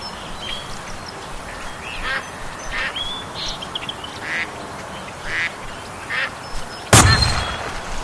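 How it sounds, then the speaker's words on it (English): Ducks from a duck hunting video game quack in repeated short bursts over a low background hum, followed by a sudden loud bang near the end. "Hey, there's some ducks coming in."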